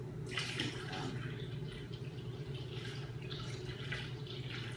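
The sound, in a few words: water poured in to top up honey melomel fermenter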